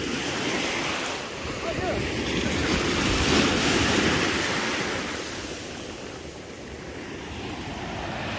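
Cold Atlantic Ocean waves crash and wash steadily onto a beach, a continuous loud roar of surf swelling and easing, with wind buffeting the microphone.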